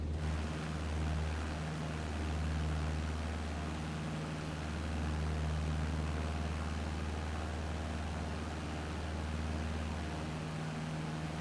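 A Cessna 152 piston engine drones steadily in flight, a continuous low throbbing hum with no talk.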